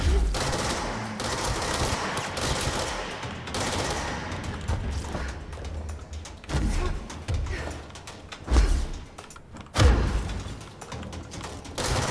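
Rapid gunshots ring out in the video game Control's Alan Wake DLC as continuous loud automatic fire, punctuated by a few heavy thuds, with little talking.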